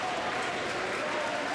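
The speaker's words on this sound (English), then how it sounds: "As he gets a big round of applause leaving the floor there, Mike," Sustained applause from a crowd in a high school boys basketball gym as an injured player leaves the floor, a steady dense wash of clapping throughout.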